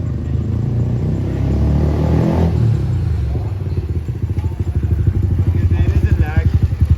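Motorcycle with an accelerator problem and an aftermarket exhaust, revving unevenly and then settling into a rapid, pulsing exhaust putter that grows louder, with people talking over it.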